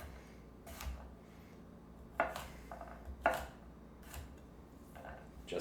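Garlic cloves are sliced with a knife on a board for quick pickles, giving a few sparse, quiet, sharp cuts and taps spaced out against a soft background.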